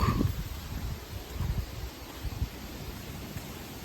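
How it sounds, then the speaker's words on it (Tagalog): Gusty seaside wind on Siargao Island rushes and buffets the microphone in uneven low thumps, with a steady airy hiss throughout and no voices. "medyo mahangin yung mga kabiyahe dito sa gilid ng dagat"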